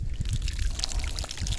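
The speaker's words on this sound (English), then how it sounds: "Just going to pour the grape soda on it, see what happens." Grape soda is poured over an FFP Salos fishing reel during a torture test, a steady fizzing, splashing trickle close by and fairly soft.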